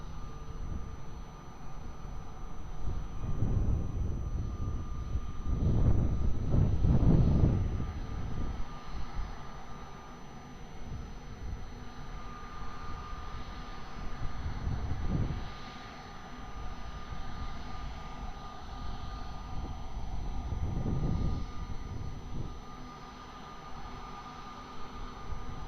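Delta airliner taking off at Lisbon Airport, heard as a faint, distant engine rumble that swells and fades several times over a steady background hiss.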